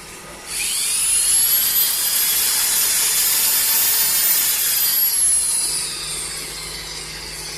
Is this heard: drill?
yes